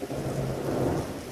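Thunder rolls during a rainstorm over Storrs, a steady, low, broad rumble mixed with the wash of falling rain throughout, with no talking.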